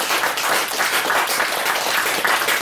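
Audience clapping at a Buddhist Zen meditation dharma talk, a steady, dense wash of applause filling the whole moment at moderate loudness, with no voices over it.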